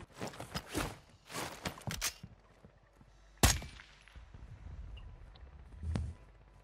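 Gunfire in Call of Duty Warzone 2, a few sharp bursts and one loud crack among footsteps and scattered thuds, with quiet stretches in between.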